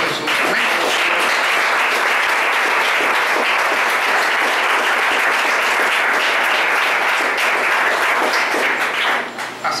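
Loud, sustained applause from a church congregation during a Spanish-language sermon, a dense continuous roar of clapping that holds steady for several seconds before tapering at the very end.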